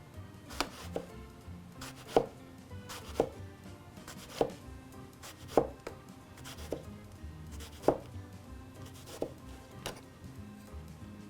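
A knife slices through eggplant by hand on a cutting board, making a series of about ten crisp, fairly evenly spaced chopping thuds close up, with no talking.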